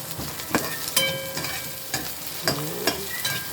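Chicken feet and potatoes sautéing in a pan for adobo, a steady sizzle broken by a few sharp clatters and scrapes of stirring, close up.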